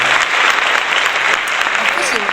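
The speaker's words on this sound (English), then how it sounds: "we'll give a round of applause for the newest member of the 2 to 1 show, which is Rachel." A small studio audience claps and cheers for a new member joining a talk show, with a dense, steady burst of applause and some voices mixed in.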